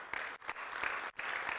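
Congregation clapping during a church fasting and prayer service, a short burst of crowd applause with a couple of brief dips, fairly quiet and with no talk over it.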